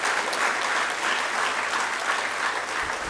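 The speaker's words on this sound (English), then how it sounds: "I think we should give him a big round of applause." A conference audience applauds steadily and densely in a large room, a continuous wash of many hands clapping with no break for the whole stretch.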